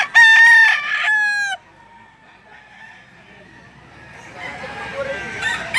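A rooster crows loudly and close by at the Lipa livestock auction market in Batangas, one long bright call. After it comes quieter market background with other fowl faintly calling.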